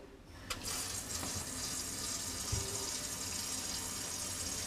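Water runs steadily from a kitchen tap into the sink during a Badger 500 InSinkErator quick-lock garbage disposal replacement, a constant close hiss with a few faint clunks.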